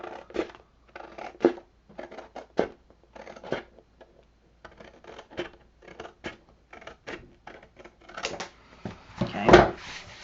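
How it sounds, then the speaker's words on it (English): Scissors snip through cardstock along a scored line during a paper-craft project, making a series of close, crisp irregular cuts and rustles with short pauses, and a louder crunch near the end. "I'm going to take my scissors,"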